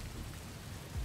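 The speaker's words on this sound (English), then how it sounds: "Yeah, I could do without the rain." Steady rain falls in the Western video game Desperados III, a dense, even hiss of drops at a constant moderate level with no voices over it.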